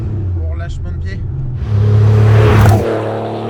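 Revving engine of a RUF-tuned Porsche 930 Turbo making over 400 horsepower, heard from inside the car as the turbo comes back on, with a loud surge midway through and people talking over it.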